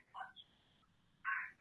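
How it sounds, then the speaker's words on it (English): A pet parrot calls in the background: two short squawking calls joined by a thin, faint whistle, fairly quiet and distant, with no talking. "I don't know if you can hear that, my parrot in the background."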